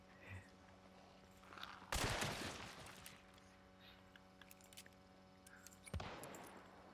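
Gunfire rings out in the video game Hunt: Showdown: two sharp, loud reports a few seconds apart, the first trailing a brief rumbling echo, over a faint steady background hum.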